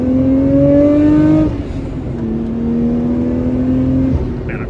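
A Nissan Skyline R34 GT-R engine pulls hard at full throttle in rising tones, with a brief dip at a gear change before climbing again, loud and close from inside the car.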